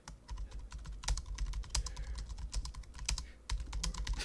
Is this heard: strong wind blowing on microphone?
no